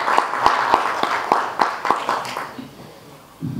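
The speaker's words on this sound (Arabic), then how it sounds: "الشاعر الجميل أسامة جمال الدين نستقبله في تصفيق الحار" Warm applause from an audience at a cultural forum in Dearborn, greeting a poet; steady clapping with sharp individual claps up close, thinning out toward the end.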